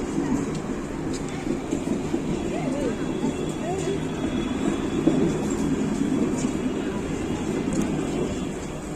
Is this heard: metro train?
yes